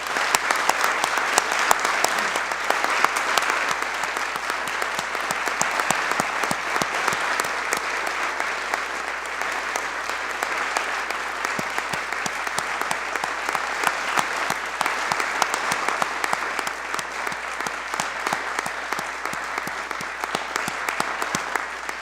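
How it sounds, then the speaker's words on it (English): A legislative chamber applauds first responders and honors the victims of the Aurora workplace shooting. The clapping is sustained, even and crisp and lasts over twenty seconds, with no speech. "I would ask the chamber to give them a round of applause"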